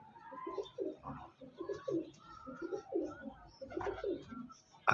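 Female teddy pigeons in Faisalabad cooing in repeated soft rolling phrases close by, with someone speaking now and then alongside.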